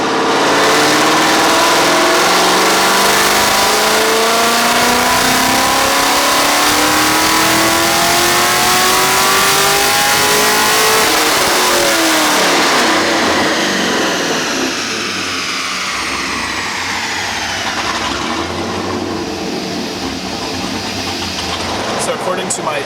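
A manual car with a high-ramp intake and solo exhausts revs loudly and accelerates hard, its engine note climbing in pitch, then dropping and settling toward a lower drone, with voices faintly audible under the roar.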